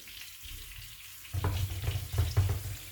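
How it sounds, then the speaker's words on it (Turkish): Fish sizzling as it fries in oil in a pan, a soft crackling bed that swells into louder, uneven pops and bursts partway through, close and steady with no talking. "kızarmaya başladı zaten. Çıtır çıtır sesini duyuyorsunuz."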